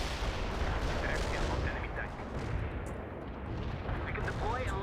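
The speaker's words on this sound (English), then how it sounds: "Keeping the artillery coming. Look at that steady stream of barrage" A dense, rumbling artillery barrage in the war strategy game World in Conflict, shells booming continuously in a heavy, sustained wash, with faint voices from the game underneath.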